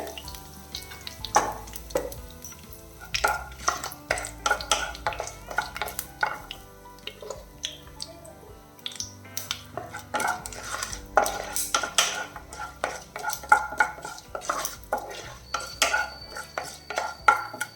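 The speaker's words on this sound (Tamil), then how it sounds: "கொஞ்சமாக கறிவேப்பிலையும் சேர்க்குறேன் மீடியம் ஃப்ளேமில் வச்சுக்கோங்க" Curry leaves fry in oil in a pan over medium flame with urad dal, while a spoon clinks and scrapes against the pan in quick, irregular strokes over a light sizzle; no one talks.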